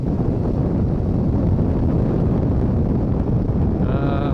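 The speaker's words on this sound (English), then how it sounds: "I feel the wind buffeting the bike around a lot underneath me" Heavy wind buffeting on a Suzuki DRZ400 motorcycle, a dense, continuous roar that stays loud and steady throughout.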